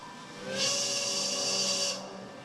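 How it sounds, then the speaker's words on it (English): A steam whistle gives one sustained, loud hissing blast of about a second and a half, with faint tonal hum running underneath before and after. "You didn't just blow the whistle, did you?"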